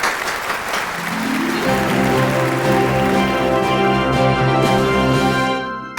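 Applause for a child's correct answer on a kids' quiz show, a dense patter of clapping that starts right away and carries on for about six seconds, joined by a sustained musical tone partway through.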